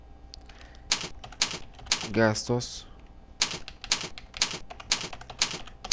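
Rapid clicky keystrokes on a computer keyboard come in quick bursts while entering a chart title in an Excel spreadsheet, with someone speaking Spanish between and over the typing.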